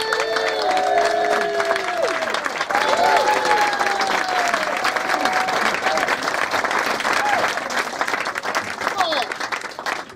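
A comedy club audience claps and cheers to welcome the first act to the stage, with continuous crowd applause and scattered whoops, while a voice speaks over it early on.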